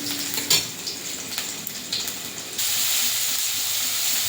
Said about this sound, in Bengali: আদাটা ভেজে নেব, এক এক করে সব ভেজে নেব